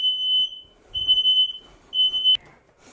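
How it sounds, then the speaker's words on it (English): A household smoke alarm, triggered by potatoes cooking in a dirty oven, sounds in loud piercing high-pitched beeps of about half a second each, repeating at a steady pace in an otherwise quiet room. "I need to clean my oven because it sets off the alarm every time."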